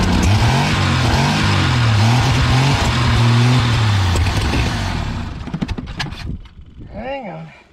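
The rough engine of a 1980 Jeep CJ7, left sitting for 20 years, revs loudly and unevenly for several seconds, then sputters and dies down into quieter knocking and a faint whine.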